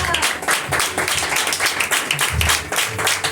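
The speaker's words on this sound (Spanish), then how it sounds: "Aplauda." Church congregation clapping during a Spanish-language sermon, loud rhythmic hand claps in quick pulses from a nearby group, with some voices mixed in.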